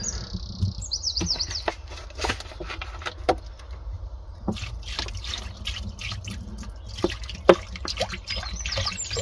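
Water is poured into a stainless steel bowl sink fitted in a campervan conversion, giving soft trickling and dripping with scattered metallic taps and clinks over a low background hum, no talking.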